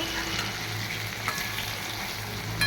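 Steady close sizzle of frying in a pan while cooking jackfruit prawn curry, a continuous hiss with a few soft stirring scrapes and no talking.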